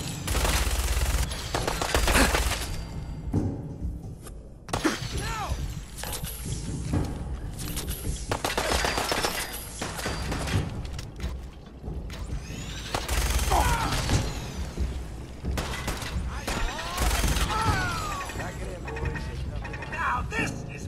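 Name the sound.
gunfire in the video game Fallout 4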